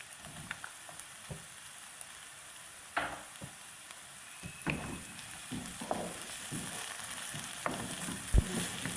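Halved tomatoes frying in a pan for Knorr masala veg noodles, a steady close sizzle with occasional stirring clicks and scrapes, no talking.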